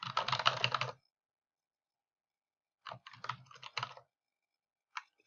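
Typing on a computer keyboard: a dense run of quick, close key clicks, then silence, then a second uneven burst of keystrokes and one final tap, with no talking.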